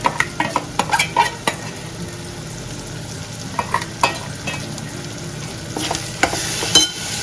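Freshly ground wet coconut paste goes into a hot pan for a Maharashtrian poppy seed curry, a steady frying sizzle under repeated close scrapes and clinks of a spoon stirring against the pan.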